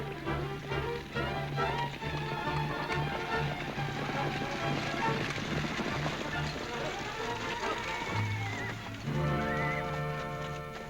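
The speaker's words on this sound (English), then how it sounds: "Sounded like a lot more horses to me than just one team." Many horses galloping in a dense rush of hoofbeats in the Annie Oakley TV series, mixed with whinnies and a bed of music, steady and loud throughout.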